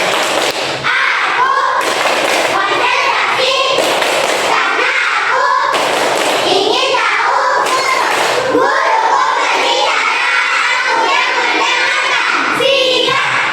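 Schoolchildren in a class 3 classroom do a rhythmic clapping game, tepuk konsentrasi, with loud, dense claps and thumps in quick patterns, mixed with young voices chanting and calling out throughout.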